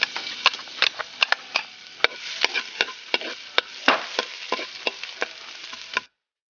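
Garlic sautéing in a pan for Bicol Express, a close, steady sizzle broken by frequent sharp clicks and scrapes of a utensil against the pan, irregular and busy for about six seconds before cutting off abruptly.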